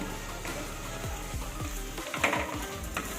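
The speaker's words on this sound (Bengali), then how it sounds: "পেঁয়াজের সাথেও আদা রসুন বাটাটাও ভেজে নেব যতক্ষণ না পর্যন্ত আদা রসুনের কাঁচা গন্ধটা চলে যাবে" Ginger garlic paste frying with onions in a pan for a green jackfruit and prawn dish, heard as a soft, close sizzle with repeated scraping strokes of a spatula, growing busier near the end.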